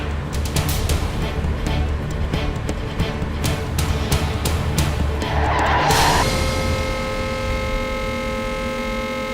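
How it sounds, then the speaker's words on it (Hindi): A car lurches forward as the accelerator is pressed, with engine rumble and scraping, skidding noise, then a sharper rising squeal and a steady tonal hum that continues to the end. "गाड़ी आगे जा रही है।"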